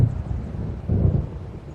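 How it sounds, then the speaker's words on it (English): Thunder rolls in from an approaching storm in Alan Wake Remastered, a loud, deep rumble that swells again midway, heard alone over a steady low background. "It seems there's a storm coming."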